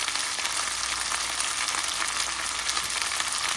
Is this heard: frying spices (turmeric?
yes